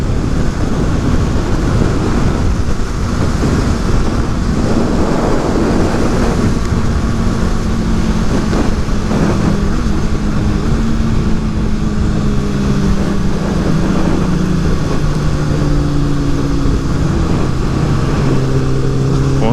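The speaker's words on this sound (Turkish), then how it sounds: "motorunun sesinden, egzozun sesinden kendi motorumun sesini duyamıyorum ya" Motorcycle engines and exhausts from a Kawasaki ZX10R and a Honda CBR600RR riding on the road drone loudly and continuously, with the pitch shifting through gear changes, under heavy wind rush.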